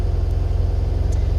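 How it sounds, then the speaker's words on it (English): A smoothly idling engine with an aluminum case and stock 26 millimeter oil pump hums steadily up close, an even low rumble with regular pulsing and no misses. "you can hear how smooth the engine's running"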